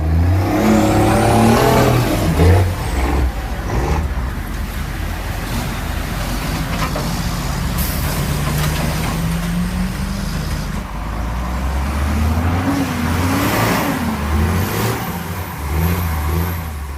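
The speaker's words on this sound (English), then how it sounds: "The 5-ton M939 series is a powerful and reliable line of military vehicles produced for the United States military" M939 5-ton military truck driving, a loud diesel engine revving and shifting through gears with rising and falling tones, heavy rumble throughout and a brief quieter stretch before the engine pulls again.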